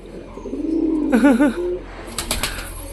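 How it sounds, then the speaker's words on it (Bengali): Pigeons cooing close by, one loud warbling coo rising and falling mid-clip, followed by a few sharp chirps and a light flutter. "এই চুচু রয়েছে সাইডে, ডাকাডাকি করছে আমাদের চুচু"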